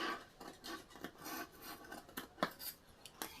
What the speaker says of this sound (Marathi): आता याला छोटे छोटे कट लावून घ्यायचे आपल्याला